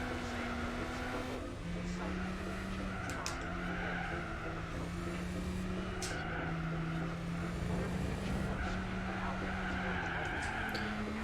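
Race car in the Gran Turismo 4 video game, a steady droning engine tone rising and dropping through gear changes, with a continuous tire skid and squeal, close and constant, with someone talking over it.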